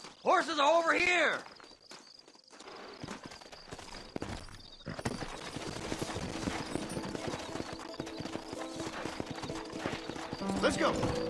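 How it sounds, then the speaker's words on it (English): Horse hooves clip-clop at a steady walking pace under a busy Red Dead Redemption game soundscape, with a brief whinny at the start and scattered background effects. "Horses are over here."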